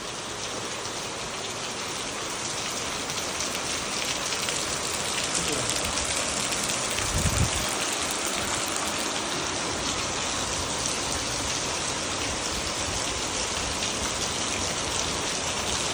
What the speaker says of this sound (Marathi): पाऊस तुफानी बरसत आहे